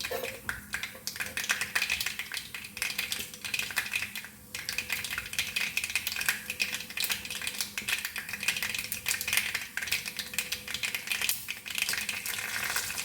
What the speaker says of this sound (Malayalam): കടുകിട്ടു